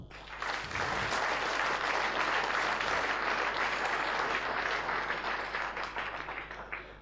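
Steady, dense audience applause filling a hall at a sports gala in Venray, starting abruptly and holding at full strength for several seconds without any talk.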